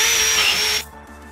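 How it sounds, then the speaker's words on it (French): Power drill boring holes along the length of a workpiece for dowels with a Wolfcraft Masterwork 1600 drilling guide, a loud steady whine that cuts off abruptly near the end. "Si tu veux faire des trous sur toute la longueur, par exemple pour des tourillons."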